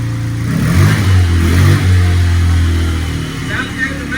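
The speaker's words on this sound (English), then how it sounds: "Give it a little rev. Let's see if we run." A rebuilt Kawasaki KFX90 ATV engine, freshly reassembled after top-end work, revs up in a few loud, close throttle bursts that rise and settle, with people talking around it.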